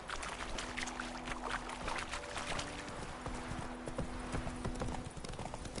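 Horse hooves clip-clop in a steady trotting rhythm in The Witcher 3, close and continuous over faint ambient game sound.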